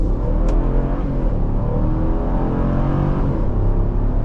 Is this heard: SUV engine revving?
yes